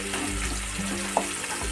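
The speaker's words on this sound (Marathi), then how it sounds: "सतत हलवत राहायचं कांदा गोल्डन ब्राउन होईपर्यंत" Chopped onion sizzles steadily as it is stirred and fried until golden brown for a chicken gravy. A soft frying hiss runs throughout, with faint scraping and one small clink. It is close and moderate in level, with no voices.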